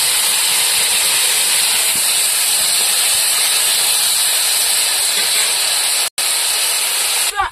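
Tamarind water poured into crab curry frying in a pan, producing a loud, steady, close hiss that holds for several seconds, drops out briefly near the end and then returns.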